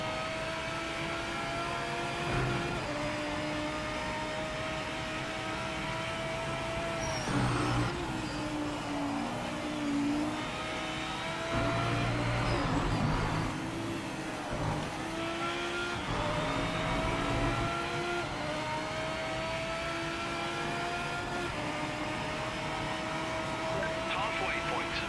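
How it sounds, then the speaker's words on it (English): Porsche race car engine at Spa in the Project Motor Racing game, a steady loud drone with rising and falling pitch through gear changes, running continuously for the whole stretch. "We're going to jump in the Porsche."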